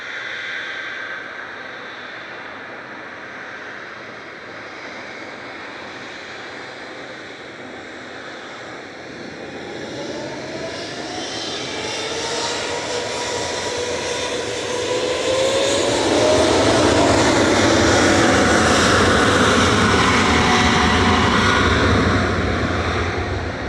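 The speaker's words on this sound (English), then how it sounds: "Etihad Airways Flight 78 back to Abu Dhabi" An Etihad Airways Boeing 777-300ER bound for Abu Dhabi departs Manchester Airport, its jet engines building from a distant hum to a loud, rising roar with climbing whine tones that peaks near the end.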